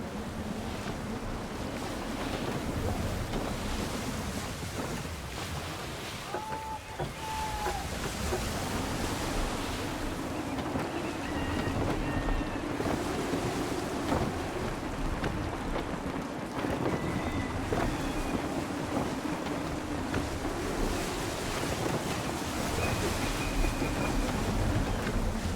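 Sailing a ship in Assassin's Creed III, wind and sea waves blend into a steady rushing wash, with surging swells and a few faint tonal creaks or calls rising above the constant roar.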